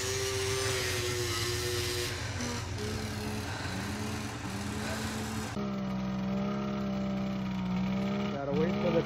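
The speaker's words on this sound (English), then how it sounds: "Gotta wait for the turbo to spool." Snowmobile engine fitted with a big Garrett turbo at a hill climb, a loud steady drone whose pitch climbs and shifts as the turbo spools, continuous throughout with no break.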